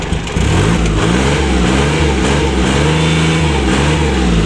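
A used walk-behind tractor engine runs loud and close. It revs steadily with a throbbing, pulsing drone throughout and no talking.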